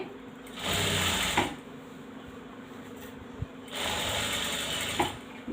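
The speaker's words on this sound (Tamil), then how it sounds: "இந்த லைனிங் பீஸில் ஓரத்துலேயே நம்ம வந்து அப்படியே ஒரு ஸ்டிச் பண்ணிடுவோம்" Sewing machine running in two short bursts, stitching along the edge of a blouse lining piece, with a steady mechanical whir and rattle and quiet pauses between runs.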